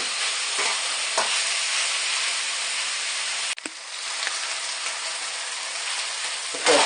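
Chicken for a Chinese chicken curry stir-fries in a hot pan, a steady close sizzle with scraping stirs and small clatters, briefly dipping mid-way before the frying resumes at full strength.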